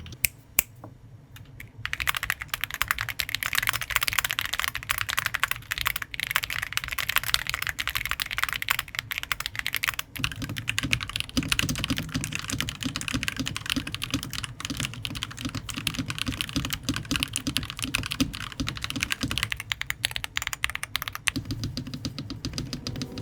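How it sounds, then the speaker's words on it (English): Typing sound test on a Keychron Q8 Max Alice-style keyboard and a Newfie Halo 65, rapid continuous clacky keystrokes close up, with a brief pause and a change in tone partway through as the keyboards switch. "The Q8 Max is an Alice-style keyboard, which is more ergonomic, but I like the general aesthetics of the Halo 65 a little bit more, and here's a quick sound test of both."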